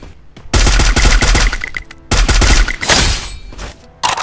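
Rapid bursts of assault rifle fire in the Free Fire mobile game, two long loud automatic volleys separated by a short gap, with a brief burst starting again at the end.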